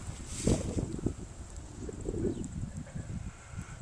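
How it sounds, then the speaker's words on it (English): Faint wind on a hilltop in Italy buffets the microphone in soft, low gusts and rumbles, with light rustling underneath and no one speaking. "Windy up here, but that's good."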